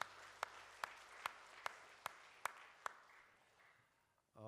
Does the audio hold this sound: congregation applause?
yes